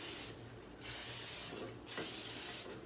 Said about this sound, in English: now I'm going to spray it with some cooking spray